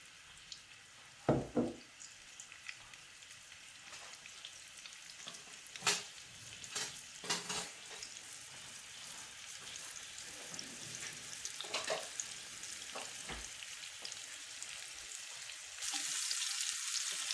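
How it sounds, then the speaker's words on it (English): Semolina-coated prawns fry in hot oil with a steady close sizzle, broken by a few louder crackles and stirring clinks near the start, with the hiss rising harder toward the end. "when the prawns are cooking, that the semolina and the prawn both"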